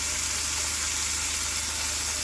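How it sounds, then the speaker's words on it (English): A quartered onion drops into a hot pan and sizzles in a dense, steady hiss that fills the short stretch at close range. "I'm going to go ahead and throw in an onion"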